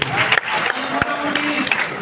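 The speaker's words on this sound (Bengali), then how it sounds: "জোরে একটা হাততালি দিয়ে নেচারে" Audience clapping loudly and steadily at a meeting held in a party centre hall in Ashulia, Savar, forming a dense, continuous burst of applause with crowd noise throughout.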